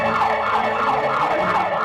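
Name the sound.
siren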